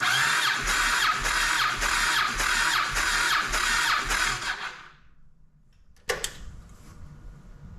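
Yamaha Road Star Silverado V-twin motorcycle engine cranking on the starter with a spark plug removed for a compression test, a loud rhythmic chugging for about five seconds that stops abruptly, followed by a brief clank and quieter background noise.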